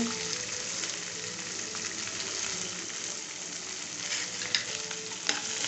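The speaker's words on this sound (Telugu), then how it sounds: "ఆవాలు జీలకర్ర కొద్దిగా వేగిన తర్వాత ఆనియన్స్ కరివేపాకు వేసుకుంటున్నా" Mustard seeds, cumin, onions and curry leaves fry in hot oil for instant noodles, giving a steady, close sizzle with a couple of sharp pops near the end and no voices.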